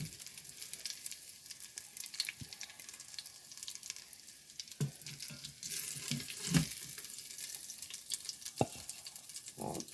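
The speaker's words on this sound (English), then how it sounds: "we're just searing them up" Salisbury steak patties searing in a pan crackle and sizzle at low to moderate level, with scattered spatula scrapes and clicks that grow busier midway.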